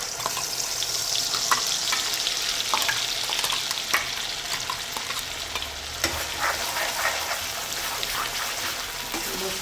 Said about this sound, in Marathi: आता आपण जो हा मसाला दळून ठेवला आहे तो मी ते टाकून घेऊ तेलामध्ये